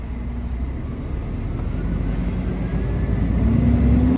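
A loaded timber truck on a Latvian road between Saldus and Liepāja pulls away after the handbrake is released, its deep engine rumble swelling steadily and close for a few seconds.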